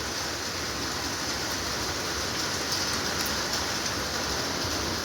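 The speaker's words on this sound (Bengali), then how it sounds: "এত গরমের পর আজকের বৃষ্টিটা জাস্ট ভাবা যাচ্ছে না, একদম এনজয়ের বৃষ্টি" Steady rain falls after a spell of heat, a dense, uniform hiss of drops on surfaces that stays even throughout, moderately loud with no voices.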